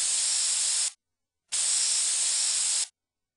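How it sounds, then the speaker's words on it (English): Two sharp bursts of hissing compressed air, the first about a second long and the second slightly longer, with silence between. "Click on the spray duster."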